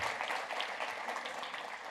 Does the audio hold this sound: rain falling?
no